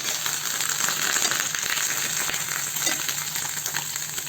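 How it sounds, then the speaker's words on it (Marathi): Brinjal, tomatoes, green chillies and garlic frying in oil in a small pan, a steady dense sizzle throughout, close and continuous with no talking. "इथं वांगी आपल्याला छान भाजून घ्यायच्या तेलात. त्यामध्ये टोमॅटो, त्यामध्ये मिरच्या आणि लसूण. आता हे आपल्याला छान भाजून घ्यायचे."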